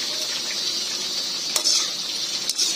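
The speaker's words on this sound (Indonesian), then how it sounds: "Di sebelah ni saya sedang menggoreng. Tengok guys, minyak sedang menggoreng ikan tenggiri." Spanish mackerel fries in hot oil with a steady, hissing sizzle that holds throughout at moderate loudness, punctuated by a couple of faint clicks of cookware.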